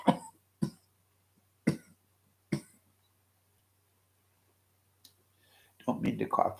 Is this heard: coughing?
yes